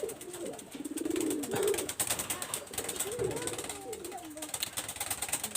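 Domestic pigeons, Teddy-type show birds kept in a loft, cooing in soft repeated rolling phrases close by, with background noise and scattered chatter underneath.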